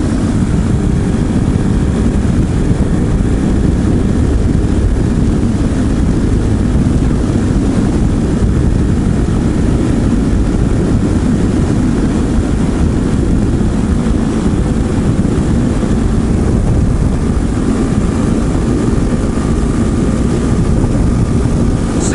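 RPS Hawk 250 motorcycle engine running steadily while riding at around 6,500 RPM, a loud, continuous drone mixed with wind roar and no pauses.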